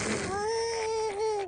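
A voice imitates a baby dinosaur's cry with a single drawn-out, wavering wail, loud and close, sliding slightly in pitch before breaking off.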